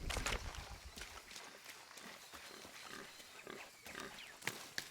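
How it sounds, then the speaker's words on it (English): Boars in the video game Shadow of the Tomb Raider grunt and squeal in a run of short, rough pig noises, close and fairly loud over a jungle background. "I can't believe they just make pig noise."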